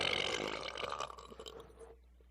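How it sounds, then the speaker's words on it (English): A single long, loud, gravelly burp from a man, close to the microphone, fading out after about two seconds into quiet. "that's not performative burping"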